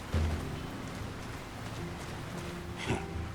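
Steady rain falls on a town in The Lord of the Rings: War in the North video game, a soft continuous hiss running throughout, with a brief louder splash or clatter near the end.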